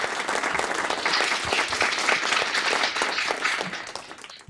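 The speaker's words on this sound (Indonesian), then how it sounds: "어김없는 뜨거운 박수 부탁드리겠습니다." An audience at a Lotte and BKPM memorandum signing ceremony breaks into loud, sustained applause, a dense, even clatter of many hands that runs unbroken throughout.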